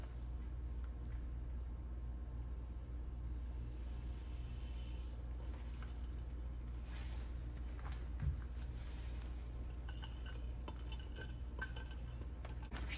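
A utensil scrapes and swirls through lye solution in a container while making lavender soap from scratch, a steady close hiss with light clinks against the sides over a low constant hum.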